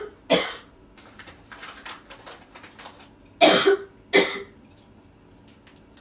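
Several sharp coughs from one person, one burst early, then two loud ones close together near the end, with quieter rustling and faint movement in between and no speech.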